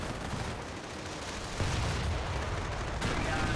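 Rifle squad gunfire hitting a Flak 88 gun in Company of Heroes, dense crackling rifle and artillery fire running continuously with sharp surges partway through, no clear talk.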